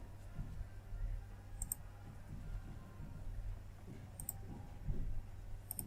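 A computer mouse gives three faint, isolated clicks spaced a few seconds apart during data entry in ERP software, over a low steady room hum.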